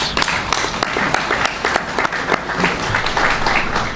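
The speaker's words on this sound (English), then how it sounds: "please raise your hand and give ourselves a round of applause" Audience applause at a groundbreaking ceremony for a Chicago development, a loud, lively crowd clapping with sharp individual claps standing out over a continuous wash of hands.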